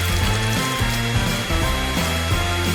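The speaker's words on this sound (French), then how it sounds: "j'ai besoin d'un sèche-cheveux pour faire fondre la peinture des Skittles" A hair dryer blows over a cake to melt Skittles candy paint, a continuous motor whine and rush of air with a wavering, slightly shifting pitch, loud and close throughout.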